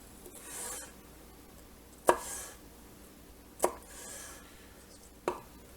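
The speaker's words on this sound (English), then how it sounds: "If tapping the knife doesn't work, you can always use the rocking motion." A knife rocks through a jalapeno on a cutting board, giving three sharp, close chops spaced a second or more apart, each followed by a soft scraping rub, in an otherwise quiet kitchen.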